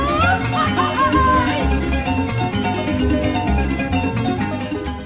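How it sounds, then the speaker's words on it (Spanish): Lively son jarocho music from southern Veracruz with plucked jarocha harp bass lines, strummed jarana and a bright requinto melody, played continuously at a brisk pace. "El son jarocho es específicamente del sur de Veracruz y se toca con el arpa jarocha"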